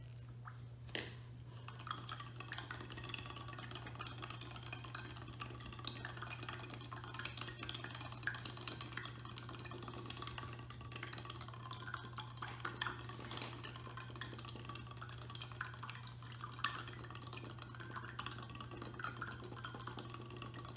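Sugar is scooped into a cup and stirred with a straw, giving quiet, steady clinks and scraping against a low constant hum, with no talking.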